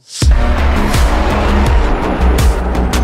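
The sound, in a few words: BMW M8 sports car driving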